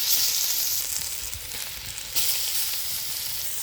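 Grated raw mango frying in homemade ghee with cloves and cinnamon: a close, steady sizzle that swells briefly partway through as the mixture is stirred, with no talking.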